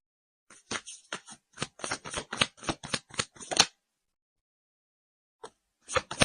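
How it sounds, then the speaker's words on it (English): Tarot cards are shuffled in quick bursts of crisp riffling flutters, close up, then a pause and a brief final burst. "I will shuffle the cards and see what is the card that will come out."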